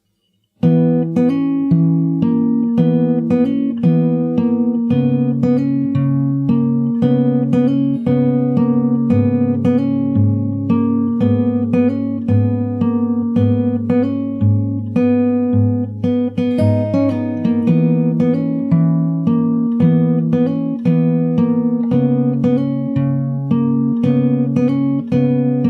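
An instrumental verse for a freestyle remix of a song plays as a steady, sustained harmonic bed with a repeating chord pattern, a continuous loud texture with regular rhythmic attacks throughout and no voices.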